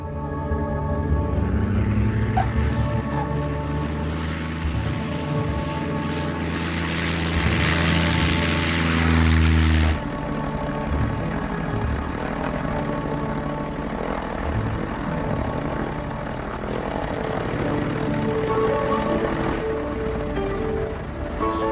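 A small propeller airplane flying in to land at a little airport, a steady loud droning engine with a strong propeller hum that shifts tone partway through, with no talk.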